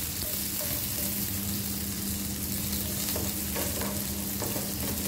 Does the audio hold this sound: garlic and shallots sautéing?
yes